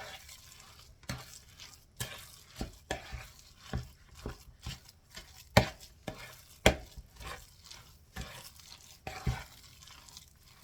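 Frikadellen meatball stuffing being mixed by hand in a bowl, a steady run of squelching, slapping pushes with irregular sharper knocks against the bowl, close and fairly quiet with no talking.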